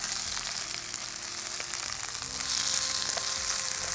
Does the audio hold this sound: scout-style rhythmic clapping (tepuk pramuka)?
no